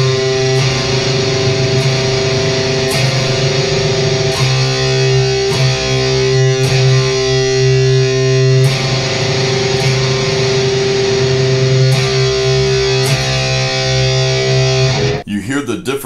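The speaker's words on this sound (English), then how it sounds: "So instead, your power chord is going to sound like this," Dense, distorted electric guitar chords ring out loud and sustained, with regular re-strums roughly every second and a half before cutting off abruptly at the end.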